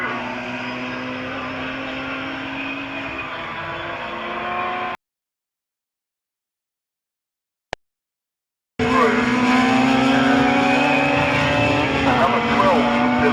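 Historic Formula 3 race cars at Castle Combe circuit roar past with high-pitched engine whines during a race. A few seconds of silence cut in midway before the engines return louder, with a commentator talking over them.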